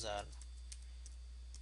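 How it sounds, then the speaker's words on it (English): A few faint, sparse key clicks on a computer keyboard as a command is typed into a Windows 8 admin command prompt, following a brief voice at the start. "Type the command here"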